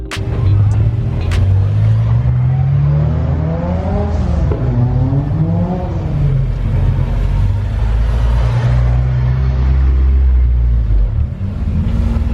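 A modified JDM Honda Civic EP3 revs loudly and close at a car meet, its engine note climbing and falling in repeated blips over a rumbling idle.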